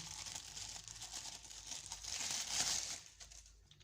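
A plastic bag crinkles and rustles continuously up close as a one-inch pipe wrench is pulled out of it, swelling briefly louder near the end.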